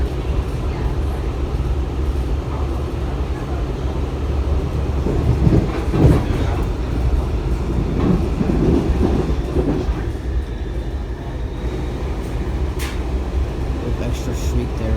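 Inside a moving Kawasaki 7000-series Metro car, cars 7126 and 7184, a loud continuous rumble and roar of wheels on rail runs throughout, with a brief faint high wheel shriek near the end.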